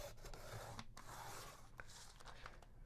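Pencil being sharpened while making Christmas gift tags, a quiet continuous scraping and rasping with brief pauses, close and faint.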